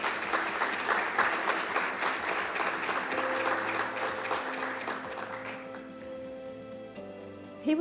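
An audience applauds in a dense, steady patter that tapers off partway through, leaving a sustained musical tone and quieter room sound.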